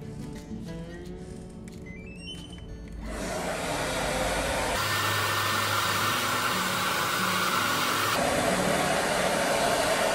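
A hairstylist's hand-held hair dryer blows on hair during styling. After a few seconds of softer handling noises, it switches on to a loud, steady, close whoosh whose level shifts briefly partway through.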